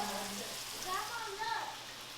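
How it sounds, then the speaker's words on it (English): Cilantro, tomato, onions and bell peppers sizzle and crackle softly in hot oil, with a voice speaking faintly over the frying. "we put the cilantro and tomato and onions and bell peppers. It's all sizzling."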